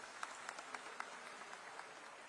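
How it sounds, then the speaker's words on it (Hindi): Applause from an audience in a Raipur auditorium during a Madai Mela event: faint, steady clapping from a distant crowd with a few sharper claps standing out. "जरा जोरदार ताली बजा दीजिए"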